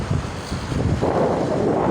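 Wind blows steadily across an open seaside concert venue at SRP in Cebu, a loud, rough rushing that buffets the microphone and swells slightly louder partway through, with no voices.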